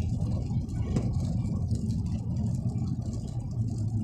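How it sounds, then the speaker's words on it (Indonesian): A sedan's engine runs steadily on a beach road in Al Khobar, a continuous low rumble that holds at the same level throughout, with no voices. "Mobil sampai bunyi begitu tuh, yang bunyi sedan sebelah kiri."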